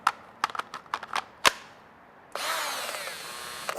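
After a few sharp taps and clicks, a power drill whirs up and runs steadily at high speed, close and moderately loud.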